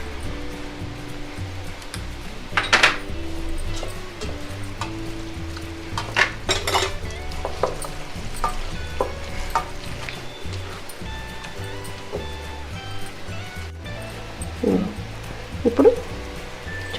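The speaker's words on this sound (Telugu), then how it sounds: "ఇలా గట్టిగా కలుపుకుంటే మీకు ఉల్లిపాయ పచ్చిమిరకాయలు అన్నీ దీనికి అంటుకుంటాయండి" Onion and green chilli mixed with ginger paste, cumin powder, chilli powder and salt are stirred hard in a pan, giving a steady sizzle and scraping metal spoon clatter, with a few sharp knocks against the pan.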